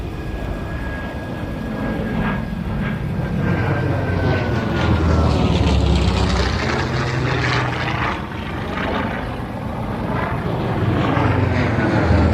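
Vintage warbird propeller planes, including a Navy Corsair, fly in at an airshow, a steady loud drone of piston engines that swells and fades over the full length, with faint rumbling in the background.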